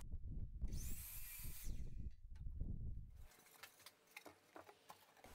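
A power saw cuts a melamine base panel in half in a garage workshop, a loud, sustained whining cut lasting about three seconds, followed by quieter rattling and handling noise.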